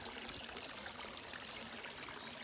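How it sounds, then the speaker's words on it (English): Water pours steadily over a small waterfall in a Michigan creek, a continuous close rushing and trickling hiss with no talk. "I'm just right next to the little waterfall here."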